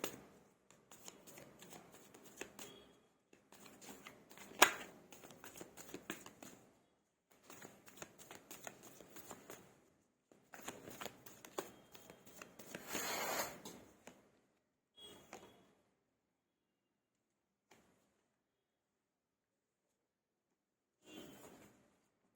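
Tarot cards shuffled by hand in repeated quiet riffling bursts separated by short pauses, with the shuffling thinning out to a few sparse rustles toward the end.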